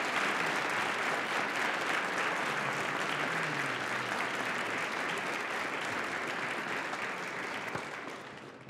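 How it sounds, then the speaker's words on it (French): An audience in a hall applauds both teams at a youth quiz tournament final, a dense sustained round of clapping that stays loud and even before tapering off at the end. "Bonne main d'applaudissement pour les deux équipes."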